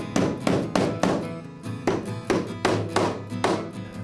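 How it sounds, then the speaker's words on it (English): A hammer taps T-nuts into four pre-drilled holes in half-inch plywood for a table saw sled: sharp, close knocks in a steady rhythm, about eight blows with short pauses, no talking. "I'm going to start by putting T-nuts in the 4 pre-drilled holes"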